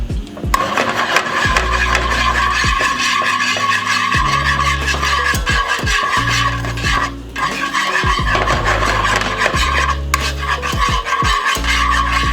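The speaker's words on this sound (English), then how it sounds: "you're gonna get a whisk and whisk it gently, like so" Butter sauce being whisked gently in a pan, a steady close metallic rasping and scraping that runs almost unbroken, with low rhythmic knocks of the whisk against the pan underneath.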